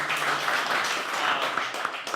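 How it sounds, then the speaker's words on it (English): Members of the New York startup teams clap and cheer a teammate heading up to pitch, a close, continuous patter of applause with scattered whoops running through the short burst. "the rest of the New York teams gather to cheer them on"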